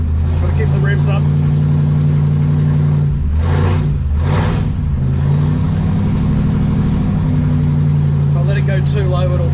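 A vintage V8 truck engine idles cold with a steady low rumble, briefly rising as it's revved, while someone talks over it.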